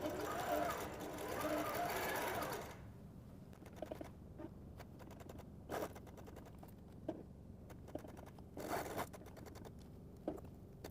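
An automated quilting machine stitches a party-popper pattern into a quilt, a soft mechanical whir broken by brief clicks and bursts as the head moves, with a louder hiss at the start.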